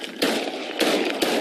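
Three sharp, loud gunshots from a police shooting ring out in quick succession on body camera footage, each a sudden crack with a short noisy tail.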